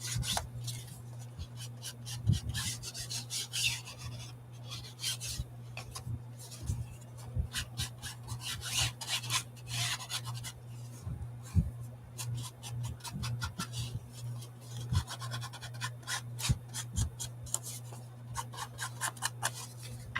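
Ink dauber rubbed onto journal paper, with soft repeated scrubbing strokes and scattered light taps over a steady low hum, close and fairly quiet.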